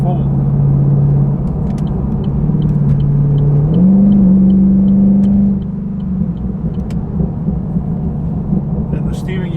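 A deep, loud cammed V8 engine in a 2013 Holden VF Commodore SSV drones steadily, its pitch rising and holding before settling back into a rumbling idle, with faint ticking above.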